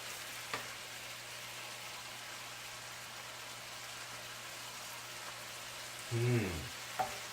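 Shrimp and rice sauté in a pan with a steady, quiet sizzle, broken by a short scraping stir near the end and a brief clink just after.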